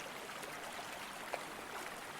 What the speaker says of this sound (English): from a flow of water that hasn't yet cut a channel into the soil to form a stream